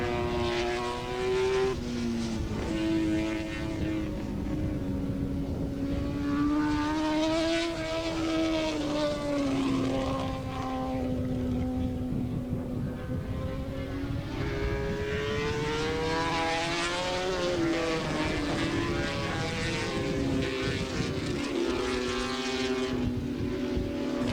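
Superbike motorcycles racing at Willow Springs in 1985, their engines a continuous high-revving drone that rises and falls in pitch as the bikes pass, loud and unbroken throughout.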